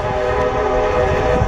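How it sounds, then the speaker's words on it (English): A train passes on nearby tracks in a small West Virginia community, a loud steady rumble with a sustained horn tone held across the whole moment, close and continuous with no talk. "You can hear the train there."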